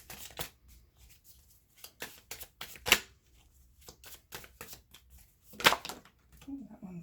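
Tarot cards shuffled by hand in a close, quiet room: quick riffling bursts and crisp flicks in an uneven rhythm, with a couple of louder slaps as cards come out.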